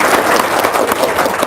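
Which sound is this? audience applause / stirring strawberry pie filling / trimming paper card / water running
audience applause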